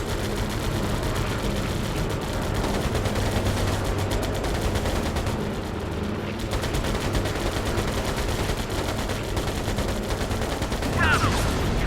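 Continuous rapid machine gun fire and fusillades from the video game Air Conflicts: Pacific Carriers, a dense rattling barrage over droning aircraft engines that runs through the whole stretch with only a brief dip midway.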